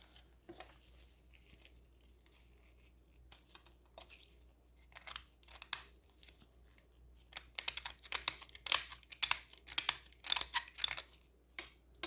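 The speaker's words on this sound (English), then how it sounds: "And then I can trim it off." Small scissor snips and clicks trim excess UV resin from a silicone mold, sparse at first then a dense run of crisp, close cuts over a faint steady hum.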